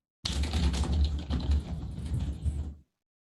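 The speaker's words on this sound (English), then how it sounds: "I don't know who was just typing" Someone types rapidly on a computer keyboard picked up by a live microphone, a loud close clatter of keystrokes for about two and a half seconds before it stops dead.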